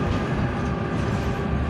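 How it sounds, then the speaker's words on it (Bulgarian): A metro train rolls past nearby with a steady, loud low rumble and rail noise, continuous throughout with no voices. "Его метрото."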